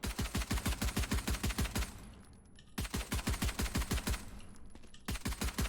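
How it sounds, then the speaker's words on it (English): A pistol is fired as fast as possible in the tactical shooter VALORANT, producing loud, sharp shots in rapid, evenly spaced bursts of about a dozen. Short pauses separate the bursts, with a faint reload-like tone between them. "So let me just click as fast as I can and show you guys the recoil."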